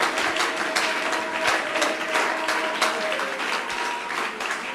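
Congregation applauding during a church worship service, a dense, steady wash of many hands clapping together that fills the space continuously with no pause.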